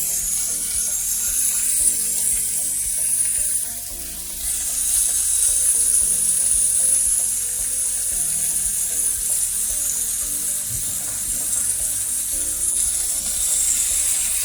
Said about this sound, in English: because it's chicken, you will need to stir continuously so it doesn't stick to the pan so quickly